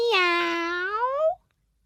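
A single clear cat meow, drawn out and rising slightly in pitch, heard close and alone before cutting off into silence.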